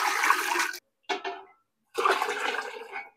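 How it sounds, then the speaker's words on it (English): Cold water gushes and splashes loudly into a pot in three bursts, a long pour, a brief splash, then another steady pour, with silence between. "We're going to keep adding some cold water."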